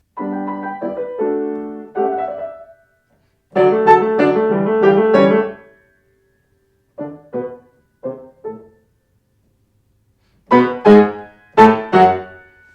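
Piano playing a passage from Beethoven's Op.79 Presto alla tedesca, measures 44 to 46, in short bright bursts broken by deliberate silent stops, each fragment clear and close in a quiet room.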